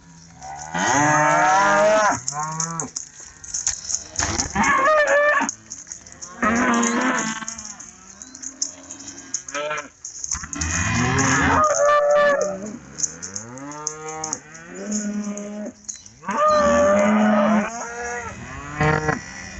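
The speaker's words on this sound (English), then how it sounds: "that's a cow, and that was a calf next to her" Cattle on a farm moo repeatedly, a cow with her calf nearby, the loud, drawn-out calls coming in a series of bursts close by with short pauses between them.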